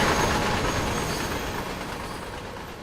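A train running past in the Just Trains simulator on the West Coast Main Line over Shap, a loud continuous rushing roar of wheels and rail clatter that fades slightly toward the end.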